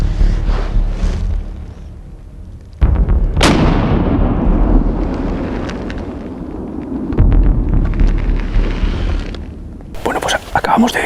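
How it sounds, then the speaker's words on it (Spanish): A single sharp rifle shot from a Winchester SXR2 pump-action rifle during a wild boar drive hunt in woodland rings out loudly and close, then echoes and decays, with low voices and rustling around it. "de un rápido disparo frenó su carrera en seco dentro del monte"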